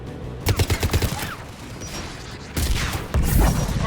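Mounted guns firing from a tower in the sci-fi game Mass Effect 3, with a quick rhythmic burst of heavy shots followed by louder booming impacts and rumbling blasts, close and forceful.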